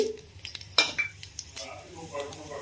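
Cumin, mustard seeds and dried red chillies fry in a pan while a spoon clinks and scrapes against the metal, a light sizzle running underneath, close and intermittent.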